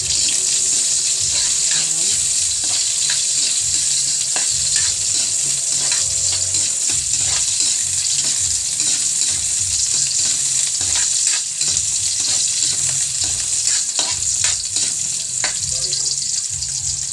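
Onion sautéing in a pan for papaya adobo: a steady, close sizzle with occasional stirring scrapes, continuing throughout.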